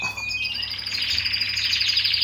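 Small birds chirping as they feed, a quick run of close, bright tweets repeating rapidly and fairly loud, with no voices.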